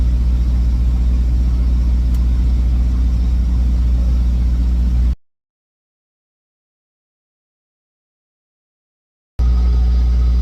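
From inside the cab, a semi truck drives a short way down the road to a nearby truck stop. The engine gives a steady, loud low rumble that cuts out completely for a few seconds partway through, then returns.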